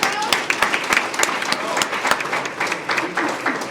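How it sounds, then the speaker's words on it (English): An audience claps for Chris Katnack at a university athletics hall of fame ceremony, a dense burst of many hands with sharp individual claps standing out, loud and continuous throughout. "can we give him a round of applause?"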